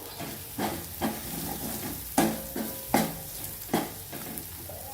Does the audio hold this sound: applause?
no